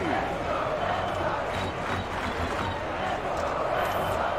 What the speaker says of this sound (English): The crowd is going crazy. Listen to them.